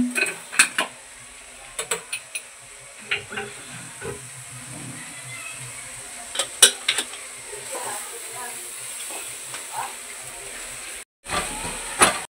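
Metal spoon scraping and clinking in a pan of melting jaggery, irregular knocks over a faint steady hiss, with brief talking in the background.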